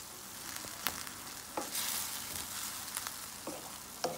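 Ground turkey frying in a pan, a steady close sizzle broken by a few scraping stirs, alone without talk.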